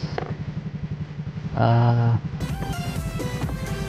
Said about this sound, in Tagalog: Ayan guys, mas lalong gumanda yung tulog ng motor natin.